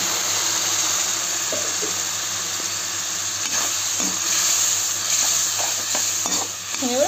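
Masala sizzles in hot oil in a pan after a splash of water, a close, continuous hiss with occasional stirring clinks and scrapes and a few faint, brief chirps.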